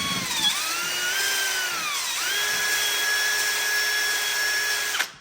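Power drill spinning a valve against its seat while lapping a 454 big block Chevy engine, a steady high-pitched whine with a brief pitch dip mid-way, close and alone.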